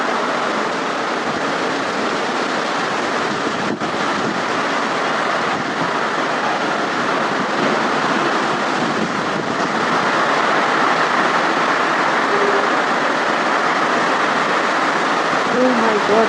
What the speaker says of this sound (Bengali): ওহ মাই গড! বৃষ্টির সাথে ভয়ঙ্কর বাতাস।